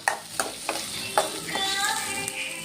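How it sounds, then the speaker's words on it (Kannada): Chicken with fenugreek leaves frying in a pan, a soft steady sizzle broken by several sharp spatula scrapes and taps, close up and without speech. "ಇದು ಸ್ವಲ್ಪ ಫ್ರೈ ಆದಮೇಲೆ ಸ್ವಲ್ಪ ಕಲರ್ ಚೇಂಜ್ ಆಗಬೇಕು, ಬ್ರೌನ್ ಕಲರ್ ಆಗಬೇಕು."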